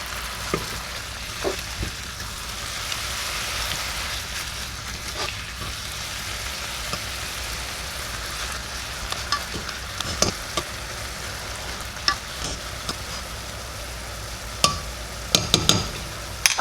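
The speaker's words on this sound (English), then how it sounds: "I'm just going to kind of use this potato masher, and we're going to kind of mash the meat." Ground beef for sloppy joes fries in a pan with a constant sizzle, while a potato masher mashes the meat in irregular clacks and scrapes that grow more frequent and louder toward the end.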